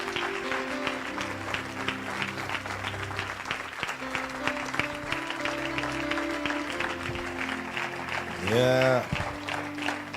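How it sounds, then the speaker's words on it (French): A church congregation applauds and cheers for the Lord in a steady roar of clapping under ongoing music, with voices calling out and a brief sung or shouted phrase near the end. "Est-ce qu'on peut acclamer très fort le Seigneur?"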